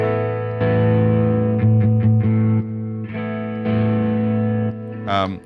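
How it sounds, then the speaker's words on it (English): An electric guitar plays sustained notes and short chords that jump noticeably louder partway through, with a gritty, slightly driven edge. "you engage the boost, you can hear the volume increase."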